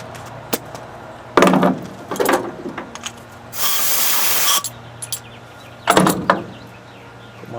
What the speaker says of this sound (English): let me hit this with the air chisel and see if I can pull that